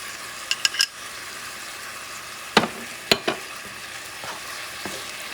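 Shrimp pancit bihon cooking in a pan, with a steady close sizzle and frying hiss throughout, broken by a few sharp clicks and scrapes of a utensil stirring against the pan.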